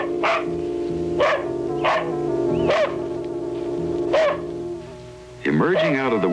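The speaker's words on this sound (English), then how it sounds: "she was distracted by the incessant barking of her dog" A dog barks repeatedly in a small town in northern Washington, loud near sharp barks in a steady rhythm over a constant humming background, ending in a burst of excited yelps.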